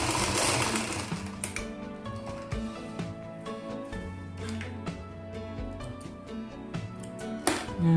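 A sewing machine stitches a gamis dress in short bursts of fast, mechanical needle clatter, close up, with clicks and handling noises between runs.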